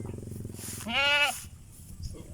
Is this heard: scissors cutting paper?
no